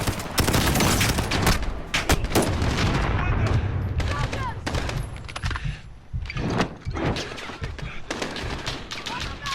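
Heavy gunfire and explosions from the Modern Warfare campaign mission Highway of Death, dense bursts of rapid automatic fire and sharp booming blasts, loud and close, continuing over a narrating voice.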